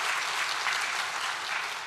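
A church congregation at an early-morning prayer service applauds the choir, with dense, even clapping throughout a short burst that tapers slightly at the end.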